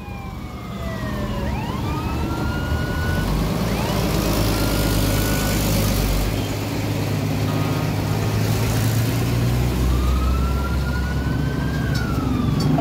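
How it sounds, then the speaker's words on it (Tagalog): A police car siren wails in rising and falling sweeps, loud and steady over constant street and traffic noise throughout. "Ate Rowena, nandyan na yung pulis!"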